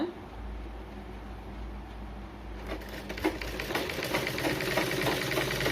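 A sewing machine stitching a blouse lining starts up partway through and then runs steadily with a fast, close mechanical whir after a quiet start.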